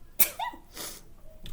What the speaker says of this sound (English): Don't make fun of my sneezes,